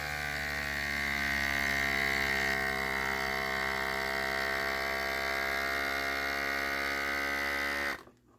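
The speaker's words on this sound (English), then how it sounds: "it's this handheld vacuum sealer" A handheld vacuum sealer pumps air out of a bag in a steady, loud mechanical buzz with a strong tonal whine that holds for about eight seconds, then cuts off abruptly.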